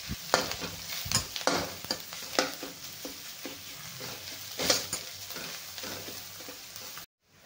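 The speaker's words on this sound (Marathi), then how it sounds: "मसाल्याला थोडा वेळ परतून घेऊया आपण।" Spice masala sautés in a pan for aloo paratha, a soft, steady sizzle broken by repeated spatula stirring strokes before an abrupt cut to silence near the end.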